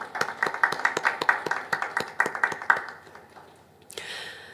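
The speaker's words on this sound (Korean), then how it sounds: "박수 보내주시죠" A church congregation at an anniversary worship service claps in a quick, fairly regular rhythm of sharp hand claps. It tapers off after about three seconds and ends in a brief brighter noise.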